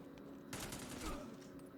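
Rapid automatic gunfire in the action video game Devil's Third on Wii U, a sudden burst of fast shots starting midway, fairly quiet and brief.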